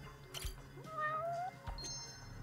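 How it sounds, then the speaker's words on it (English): A cat meowing inside the video game Judgment, one drawn-out rising meow near and clear, with soft clicks and faint game ambience around it. "There's the cat."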